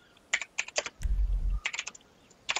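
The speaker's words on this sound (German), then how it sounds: "Er tippt nur." Computer keyboard clattering in short bursts of quick keystrokes during an online GTA session, close and fairly quiet, with a brief low thump in the middle and no talk.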